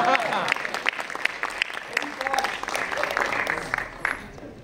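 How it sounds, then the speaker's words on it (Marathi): Loud crowd applause at a Marathi film trailer launch event, sustained sharp claps filling the whole stretch with some voices mixed in. "शितीच्या इंग्रजीसाठी जोरदार टाळ्या वाजवा"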